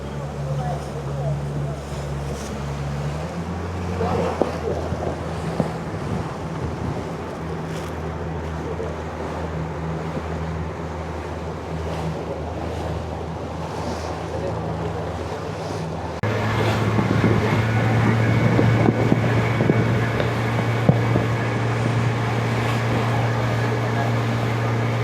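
A boat engine drones steadily on a river cruise in Terengganu, with wind buffeting the microphone and water noise, the motor shifting to a louder, higher pitch partway through.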